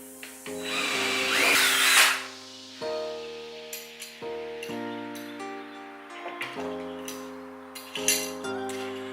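A power drill whirs in a loud burst, then runs in short stuttering pulses with clinks and knocks as it drills a hole in a front door, close by.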